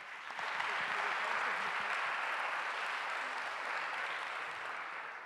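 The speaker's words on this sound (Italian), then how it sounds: "prego, un applauso anche per lui." An audience at a dialogue-performance show with Andrea Pennacchi claps together in a full, sustained round of applause that swells quickly and holds steady, tapering slightly toward the end.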